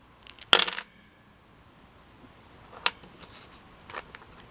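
Dice clatter onto a homemade HeroQuest game board: one sharp, close rattling burst near the start, then two lighter, brief clicks a few seconds apart, with quiet stretches between.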